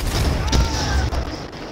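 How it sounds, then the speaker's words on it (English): A grenade blast and bursts of gunfire in Ghost Recon Breakpoint near a helicopter, a heavy low thump followed by sharp shots, with a voice talking over the action. "Grenade."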